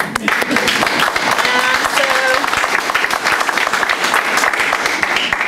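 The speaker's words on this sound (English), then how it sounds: "you can clap, that's fine" Audience applause at an antiwar talk in Seattle, a dense, steady wash of clapping that holds throughout, with a faint voice underneath.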